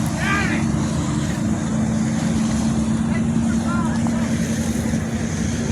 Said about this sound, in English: There's big boats coming.